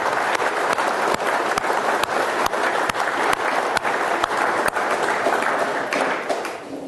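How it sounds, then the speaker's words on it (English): A conference audience claps for a panel and its moderator, a dense, steady wash of applause with a few sharp individual claps standing out, fading slightly at the end. "let's give our panelists and moderator a round of applause"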